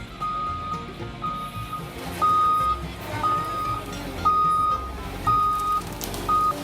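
A cement truck reverses on a farm remodeling site, its backup alarm sounding a steady series of evenly spaced beeps, about one per second, over a loud engine rumble, with no talk.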